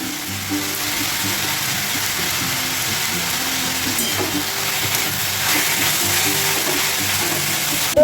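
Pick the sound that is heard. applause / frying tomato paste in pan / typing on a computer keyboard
frying tomato paste in pan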